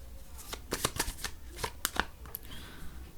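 Tarot cards are shuffled close up in quick, crisp riffling bursts and soft slaps, with short pauses between, quiet and alone.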